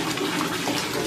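Water runs steadily from a tap into a container to fill and mix a bath on a morning in Shillong. It is a loud, continuous rushing splash, close by, with no voices.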